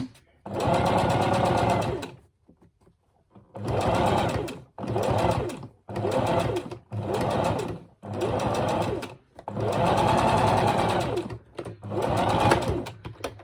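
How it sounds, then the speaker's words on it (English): A sewing machine stitches fabric for a handmade fabric rose, running in loud close bursts of rapid mechanical whirring with short stops between them. "The most sewing you'll do in the whole of this project."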